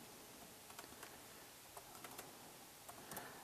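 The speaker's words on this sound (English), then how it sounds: "up here in the search area, I'm going to type" Keystrokes on a computer keyboard as a search term is typed into a search box, a quiet scatter of light clicks in short irregular bursts over faint background hiss.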